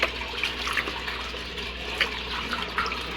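Water is poured out for chickens, a soft continuous splashing trickle heard close up with faint background noise.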